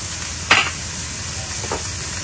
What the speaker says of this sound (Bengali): এই টাইমে না আমি 2টো পেঁয়াজ কুচি দিয়ে দিচ্ছি।